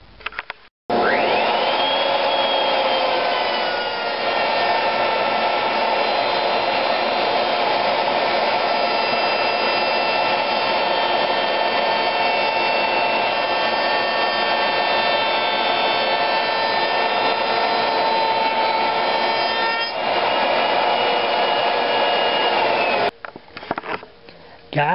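A router runs with a shop vac dust collection kit on a 2.5-inch dust pipe: a loud, steady high-pitched whine and rushing airflow start abruptly, hold evenly for about twenty seconds, then cut off, with no talking.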